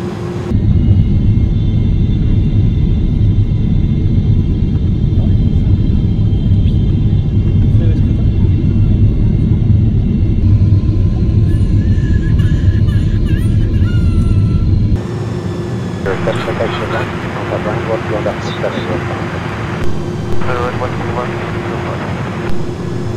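Airbus A300-600R airliner landing in Microsoft Flight Simulator 2020: a steady, loud low engine and airframe rumble that drops in level partway through, then carries on quieter with faint higher whining and clicks.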